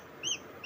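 Two or three high, thin peeps from newly hatched chicks rise briefly over a low, steady background hiss.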